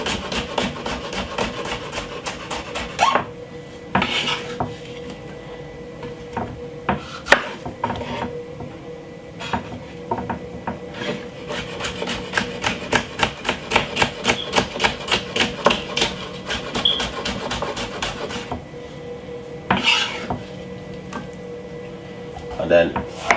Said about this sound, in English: I'm using one other green pepper, both of them green and yellow. And I'm cutting up it finely.